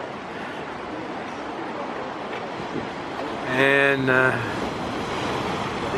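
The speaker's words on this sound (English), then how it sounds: "there's the rocky shore and the waves coming in from the Atlantic" Atlantic waves break and wash against a rocky New England shore, a steady broad surf roar with wind noise, while a voice speaks briefly over it midway.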